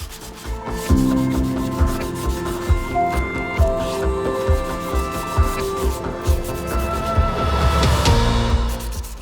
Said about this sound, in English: I went over the whole thing with some high grit sandpaper.